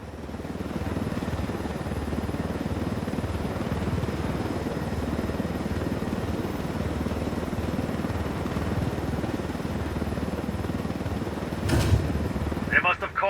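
A helicopter in the video game Ghost Recon Wildlands drones steadily with a low rotor rumble throughout, loud and close, while voices talk over it and a brief clatter comes near the end.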